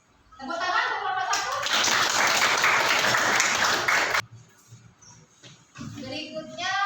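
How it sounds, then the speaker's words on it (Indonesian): Classroom applause for a student group presenting a news report, a loud burst of clapping that stops abruptly, with voices talking before and after it. "Tepuk tangan untuk kelompok"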